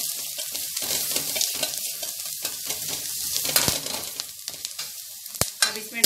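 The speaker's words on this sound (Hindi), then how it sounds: "अब इसको अच्छी तरह से मिक्स करेंगे।" Pav bhaji masala is stirred into a sizzling pan of restaurant-style pav bhaji. Continuous frying hiss mixes with sharp scrapes and clinks of a spoon against the pan, with no talking.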